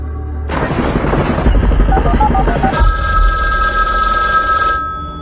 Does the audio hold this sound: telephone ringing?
yes